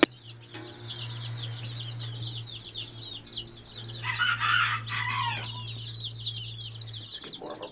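A batch of baby chicks of mixed varieties, including buffs, peep in a busy, continuous chorus of high chirps, close by, over a steady low hum.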